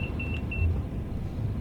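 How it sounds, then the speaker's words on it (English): Cab warning beeper in a Class 390 or 377 train on the WCML South line in Train Sim World 5: short, evenly spaced electronic beeps, fairly clear over a steady low rumble. "that's why that beeping keeps going off"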